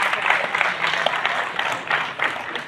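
A town hall audience claps steadily at a public event during a minister's visit to Neemuch, a dense, moderately loud patter of many hands that holds for a few seconds without talk.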